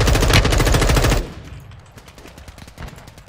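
Rapid automatic gunfire from a video game rattles loud and close for about a second, then gives way to fainter, scattered distant shots.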